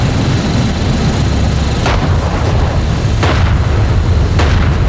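Weapons fire and heavy explosions rumble from a desert battle in the strategy game Homeworld: Deserts of Kharak, a loud continuous low roar punctuated by several sharp blasts spaced out across the stretch.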